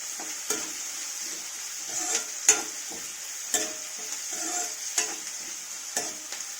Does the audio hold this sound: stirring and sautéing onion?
yes